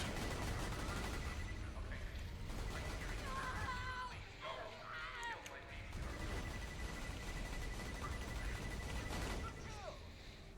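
Turrets in the Borderlands 2 video game fire in rapid bursts amid a dense fusillade of gunfire that runs throughout, with a player talking over the combat.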